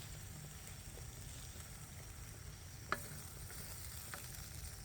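Pork stir fry sizzling steadily in a hot pan, a dense continuous hiss with a faint low rumble beneath and one sharp clink partway through.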